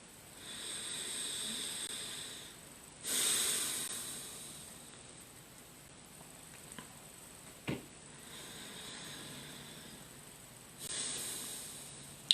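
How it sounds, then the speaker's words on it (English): Slow, deep breaths during a guided breathing exercise, long airy inhales and exhales rising and falling in a steady cycle at close range, with a couple of soft clicks and no speech. "let's set up a good breathing pattern"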